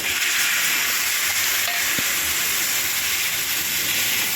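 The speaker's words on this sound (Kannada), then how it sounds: "ಕಡಲೆಕಾಯಿ ಬೀಜ ಹಾಕಿ ಈಗ ಸ್ವಲ್ಪ ಗೋಲ್ಡನ್ ಬ್ರೌನ್ ಬರೋ ತನಕ ಬಾಡಿಸ್ಕೊಳ್ಳೋಣ" Peanuts roasting in a pan until golden brown while making sorekai (bottle gourd) chutney, a steady hiss of frying and sizzling with the occasional stirring scrape, close and continuous, with no talking.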